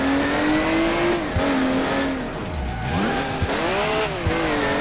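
Police car engine in the racing video game Crash Time 2 revving and shifting pitch continuously, loud and close, rising and dipping through gears with brief tire squeal.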